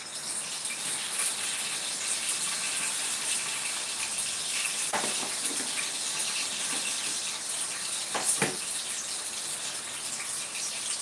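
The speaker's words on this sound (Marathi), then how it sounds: "तेल चांगलं गरम झालंय आता त्याच्यामध्ये टाकायचं आहे मोहरी" Mustard seeds sizzle in hot oil for a tempering of dal, a steady close frying hiss broken by a couple of sharp pops and crackles, with no talking.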